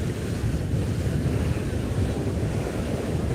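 Ocean surf rolling in at Cocoa Beach, a steady broadband wash of breaking waves with wind buffeting the microphone, continuous and fairly loud with no voices.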